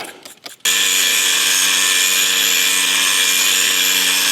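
A power tool, likely an angle grinder with a cutoff disc, slices through a steel hammer drill bit being made into a welded hammer with a chisel end. Brief rough scrapes come first, then a loud, steady high whine runs to the end.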